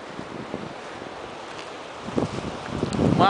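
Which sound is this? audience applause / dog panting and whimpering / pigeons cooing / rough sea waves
rough sea waves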